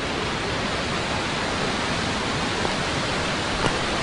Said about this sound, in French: Avec donc au fond là-bas la cascade.